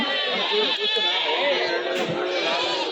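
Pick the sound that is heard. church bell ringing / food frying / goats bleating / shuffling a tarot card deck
goats bleating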